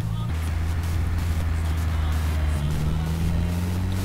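A truck driving along a road in GTA San Andreas during a modded mission, a continuous loud engine drone with steady road rumble and shifting tone.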